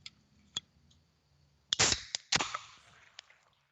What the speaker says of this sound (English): Rate this pop top. Here we go. Seltzer water coming in.